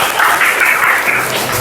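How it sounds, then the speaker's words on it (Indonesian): Short burst of applause in a classroom session for two participants, a dense even patter of clapping hands at steady loudness with no voices. "Tepuk tangan untuk Ajipa dan Silva."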